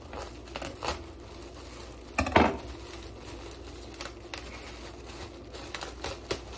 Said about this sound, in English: just get your knife and cut a piece of it off like this